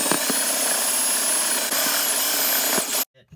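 A drill runs continuously and loudly while enlarging a hole in the roof of a Jayco 212QBW travel trailer, a steady high whine with slight pitch dips, cutting off sharply near the end.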